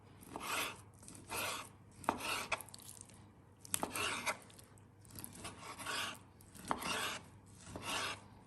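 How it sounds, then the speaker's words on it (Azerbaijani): Knife rhythmically slicing washed chicken into thin long strips, about ten quick scraping cuts against a board, close and fairly soft, with no speech. "Yuyub təmizlədiyimiz toyuqları nazik uzun doğrayırıq."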